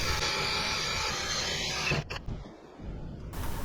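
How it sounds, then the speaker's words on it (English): A cordless drill fitted with an 8mm socket drives self-sealing, rubber-washered screws into a chimney collar on a boat's log burner. It gives a close, brief whirring run of about two seconds and then stops. "using an 8mm socket on the drill, I drive those screws home"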